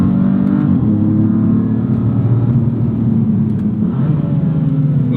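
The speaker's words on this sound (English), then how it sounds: "Ooh, a bit of a slow downshift there." A 2016 BMW M3 F80 engine rumbles loudly and steadily close by, its pitch dipping and rising through a slow downshift with no talking.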